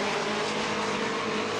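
A Nissan 240SX convertible drift car at a Formula Drift knockout qualifying round holds a sustained, steady exhaust drone at high revs, heard continuously at a distance over the course of the run.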